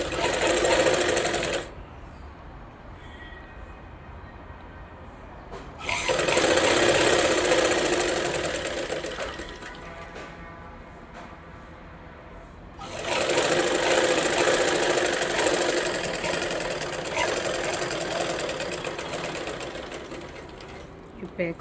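A sewing machine stitches a blouse lining in three long, even bursts of rapid mechanical whirring, with quieter pauses between them.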